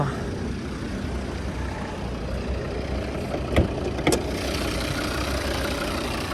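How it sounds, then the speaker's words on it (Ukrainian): A steady, low Volvo 2.0 D3 diesel engine in a Volvo V50 idles close by, a constant rumble with no change in pace and a couple of brief clicks partway through. "Дивіться, як працює гарно двигун."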